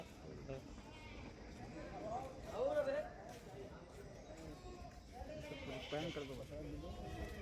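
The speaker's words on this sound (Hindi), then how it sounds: "बकरा इधर आ यार।" A goat bleats several times at a livestock market ahead of Bakrid, with wavering cries partly under a man's speech and general crowd noise.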